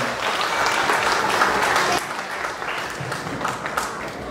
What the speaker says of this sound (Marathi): तर तुमच्यासाठी एकदा जोरदार टाळ्या होऊन जावा.